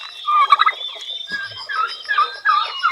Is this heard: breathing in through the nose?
no